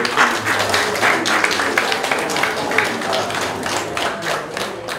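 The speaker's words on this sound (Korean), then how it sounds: "우리 서로 옆을 보고 박수합시다" A church congregation claps together at an ordination service, dense rhythmic applause filling the room at close range, with voices mixed in beneath the clapping.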